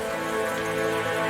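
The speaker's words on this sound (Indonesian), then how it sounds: "Lalu turunlah hujan yang lebat." Heavy rain as a sound effect, a dense, steady hiss of drops on a surface, loud and unbroken for a brief stretch with no voices.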